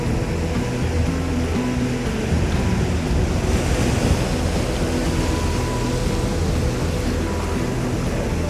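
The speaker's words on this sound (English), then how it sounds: "Here come the waves." Ocean surf breaks and washes in steadily and loudly along a beach during surf fishing with a surface lure, with a continuous roar of churning water and some wind buffeting the microphone, and no talking.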